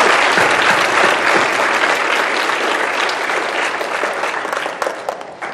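Dense, loud applause from a crowd honouring the candidates at a Lowndes County Chamber candidates event, with continuous overlapping hand claps close by that taper slightly toward the end.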